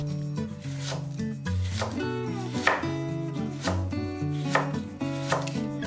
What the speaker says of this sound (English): Finely mince the white cabbage.